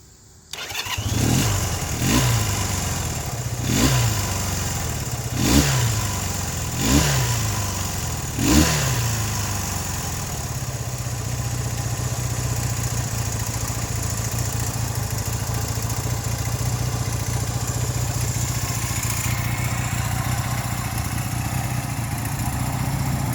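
A 1975 Honda CB200T twin motorcycle cranks on its electric starter several times in short bursts, then catches and settles into a steady, loud, close idle with no talk.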